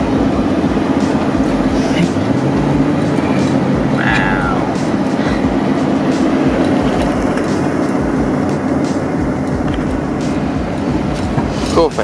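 A freight train rumbles steadily past at close range, a continuous clattering roar of wheels and cars with a brief high squeal partway through.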